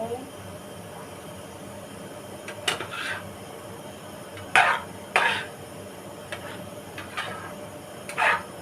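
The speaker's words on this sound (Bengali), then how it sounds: "দিয়ে আর একবার ভালো করে নেড়ে চেড়ে নেব" A spoon stirs ash gourd cooking in a pot with spice powder and chopped chilli, making scattered scrapes and clinks against the metal over a steady background hiss.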